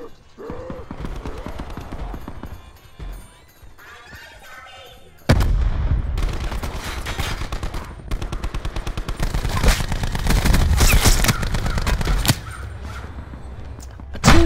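Gunfire in a video game: after a quieter stretch with a voice, sustained rapid bursts of shots erupt and continue loud and close, in dense rattling volleys with sharp individual cracks.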